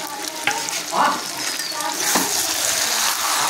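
Fried potatoes are tipped into sizzling mutton curry and stirred, giving a loud, close, continuous frying hiss with a few scraping stir strokes and soft thuds.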